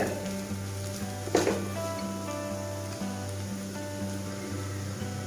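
Chopped tomatoes dropped into a pan of spicy Kerala-style chicken masala roast, a steady close sizzle with one sharp burst as they land, then continued frying hiss with faint stirring.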